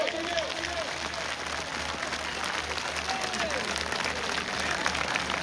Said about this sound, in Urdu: زوردار تالیاں مولا کی آمد کی خوشی میں۔